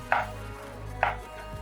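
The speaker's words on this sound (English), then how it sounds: "Finish off chopping my tomato." Two crisp knife chops through a tomato land on a cutting board, about a second apart, close and clear with a quiet pause between them.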